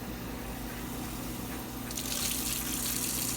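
Tap water running into a wide-mouth jar of sprouting lentils during rinsing, a steady close splashing stream that turns brighter and gushier partway through.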